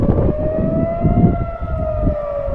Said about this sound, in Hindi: इजराइल में अभी सायरन्स बज रही हैं,